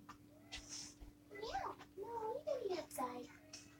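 A cat meows several times with rising and falling drawn-out cries, moderately close, amid faint background hum and a little nearby voice.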